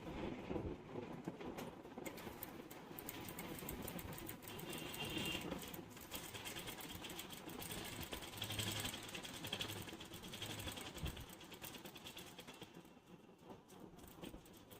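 A sewing machine runs a loose stitch for gathering frills, with a steady mechanical whir that continues throughout at moderate, fairly even loudness.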